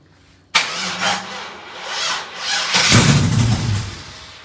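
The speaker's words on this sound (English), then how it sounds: "Let's go ahead and start it again." A 1972 Nova with a swapped LS 5.3 V8 and built 4L60E transmission starts on a weak battery, giving a brief crank, then a rough, surging catch that rises and falls loudly over a few seconds.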